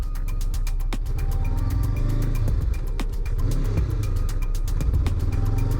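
A 2021 Honda CBR500R parallel-twin engine drones steadily and loudly while the bike is ridden, with a rising and falling pitch as it revs, heavy low rumble, and wind noise throughout.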